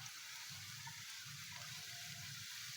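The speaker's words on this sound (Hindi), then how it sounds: "इसको भी अच्छे से फ्राई करेंगे मज़ीद 2 मिनट तक हल्की आंच" Onions frying with cumin and potatoes in a pan over a low flame: a faint, steady sizzle with soft crackling and no break.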